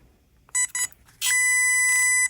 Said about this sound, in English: You'll get 2 beeps and a long beep when it connects properly